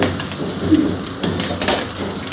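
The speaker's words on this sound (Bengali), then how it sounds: "আর এই দেখো ভেজে ভেজে রাখা হচ্ছে।" Pieces of katla fish fry in hot oil, giving a steady, dense, close crackle and sizzle that fills the moment without talk.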